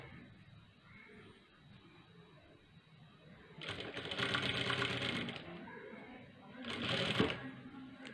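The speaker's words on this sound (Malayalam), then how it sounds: "ഇത് അങ്ങനെ തന്നെ കറക്കി ഡബിൾ സ്റ്റിച്ച് അടിച്ചെടുക്കാം." Sewing machine running in two bursts while double-stitching a cross-cut blouse sleeve, the rapid needle clatter loud and close against a quiet room with faint background sound between runs.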